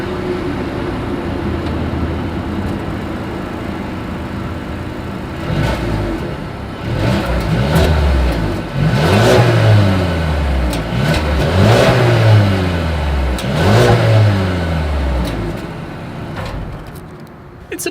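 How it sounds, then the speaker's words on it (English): Exhaust of a 2020 Mercedes-Benz A220 with dual chrome-tipped outlets: a steady idle that rises into several loud, close revs in succession before settling back down. "here is that exhaust clip"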